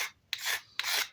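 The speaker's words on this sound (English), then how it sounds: "So we scraped the handle." Three rasping scrapes drag across the wooden handle of a Garland No. 3 split-face hammer, close and distinct, each a short rough stroke with brief pauses between.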